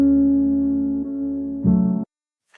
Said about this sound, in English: I used a H delay from Waves to add some delay